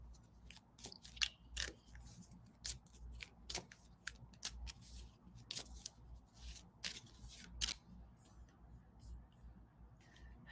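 Repeated crisp riffling and snapping of cards being shuffled, close up, in irregular bursts over a low steady hum, with no talking.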